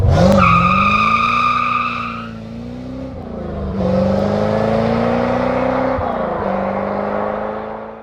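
A C4 Corvette's engine drones loudly from inside the car while driving, its pitch rising under acceleration, dipping at shifts and climbing again, with a strong steady hum throughout.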